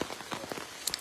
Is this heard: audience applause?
no